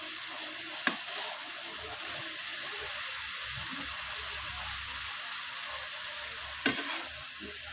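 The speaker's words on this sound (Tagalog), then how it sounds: "Hahaluin ko na po para po malusaw na ng todo. At saka para hindi masunog." Ginger frying in butter for buttered shrimp, stirred in a pan, with a soft steady sizzle and a couple of sharp utensil clinks against the pan.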